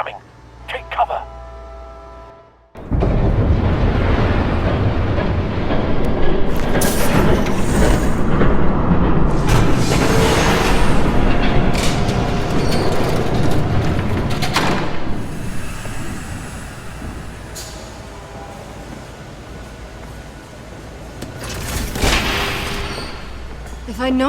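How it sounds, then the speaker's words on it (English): A train thunders past in Batman: The Telltale Series, Episode 3, a loud, heavy, sustained rumble that begins abruptly after a few seconds of quieter sound and holds with little break to the end. "There's a train coming."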